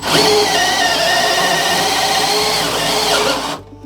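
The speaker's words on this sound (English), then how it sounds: "I cannot believe I'm drilling a flipping hole in my hull." A power drill bores steadily through a fiberglass boat hull, a loud continuous whine that holds for several seconds and then cuts off abruptly.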